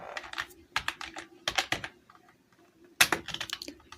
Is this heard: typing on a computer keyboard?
yes